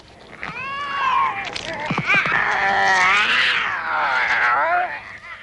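A reanimated cat screams in the 1985 horror film Re-Animator: a loud, close, continuous yowling wail with sliding pitch that runs for about five seconds.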